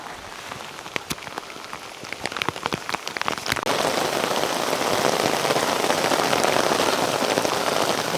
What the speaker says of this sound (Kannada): ನಾವು ಬೆಟ್ಟ ಹತ್ತುತ್ತಿರ್ಬೇಕಾದ್ರೆ ಮಳೆ ಬರ್ತಾಯಿತ್ತು